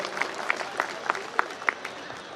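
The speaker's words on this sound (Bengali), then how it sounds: "সুমির জন্য হাততালি জোরে" An audience at an Officers' Club Saraswati Puja music event claps, with a few crisp, rhythmic claps standing out over a continuous, moderately loud wash of applause.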